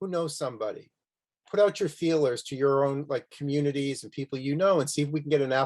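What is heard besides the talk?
No everyday noises stand out.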